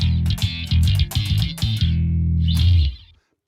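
Bass guitar played through the Nembrini multi-band bass amp app on iOS, giving a distorted, effected tone: a run of short plucked notes and chords followed by a held note that cuts off into silence, with no talking.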